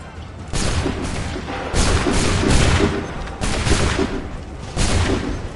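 Musket volley gunfire in Assassin's Creed 3, several loud crackling bursts of massed shots close by, each rolling into the next in a ragged rhythm.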